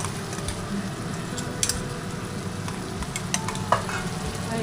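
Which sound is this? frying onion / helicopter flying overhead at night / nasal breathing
frying onion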